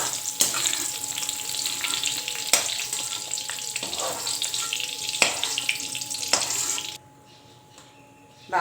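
Mushrooms sauté in leftover oil over a full flame for kadai mushroom masala, a loud close frying hiss with periodic stirring clatters that cuts off abruptly near the end.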